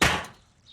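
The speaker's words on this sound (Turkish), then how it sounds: "Biber doğramaya çalışıyorum" A single sharp knife chop on a cutting board while cutting peppers in a home kitchen, close and crisp with a quick decay, no talking.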